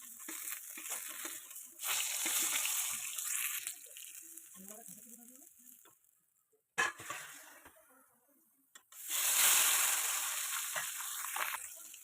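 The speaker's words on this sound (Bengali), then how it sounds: "যে কড়াইটাতে বেগুন ভাজা করেছিলাম ওটাতে আমি পাবদা মাছটা ভেজে নেবো" Pabda fish fry in oil in a wok, giving bursts of close sizzling and spattering that rise and fade in waves, separated by quieter gaps and a sharp clatter.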